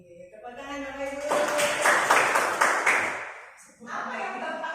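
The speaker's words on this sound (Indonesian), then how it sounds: "tepuk tangan Bapak Ibu" An audience at an Indonesian school training session claps together in a burst of applause lasting about two seconds, with voices and tonal sounds around it before and after.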